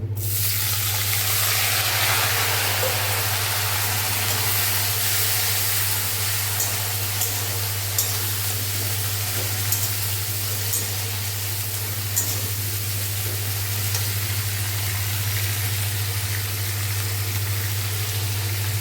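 Chopped bitter gourd, onion and green chilli hit hot mustard oil with a loud, close burst of spray-like sizzling that holds steady throughout, with a persistent low electrical hum beneath it.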